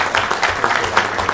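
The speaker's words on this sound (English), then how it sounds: "Let's give him a round of applause." Brief, close applause fills a city council meeting room: a small group claps in a quick, even patter that holds for just over a second.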